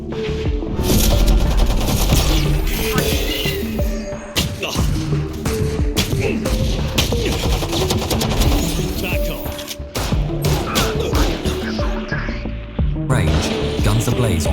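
Japanese fighter planes rake a B-17 bomber with machine-gun fire: dense, nearly continuous bursts and booms rattle over a loud, droning engine hum for the whole stretch.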